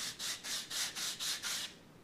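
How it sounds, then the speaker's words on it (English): Sandpaper scrubs the beveled edge of a laser-cut wooden catapult glider fuselage in six quick even strokes, a close, bright scratching rhythm with nothing else heard. "We're going to go in here and look for any beveling, just try to sand this off."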